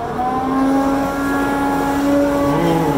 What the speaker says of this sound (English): it is a Ukrainian dust collector